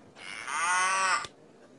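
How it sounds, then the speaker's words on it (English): A single loud, drawn-out cow moo rises and holds for about a second, then cuts off sharply, with quiet background afterward. "Where's all the mooing coming from?"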